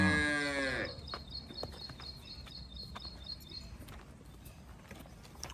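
A short, loud moo from a newly calved cow, one of a cow and calf pair, opens the clip and fades within a second, leaving quiet barnyard background with faint chirps and clatter.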